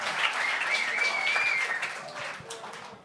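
Studio audience applauding at a French-language comedy talent show, a steady dense wash of clapping and cheering that fades slightly toward the end.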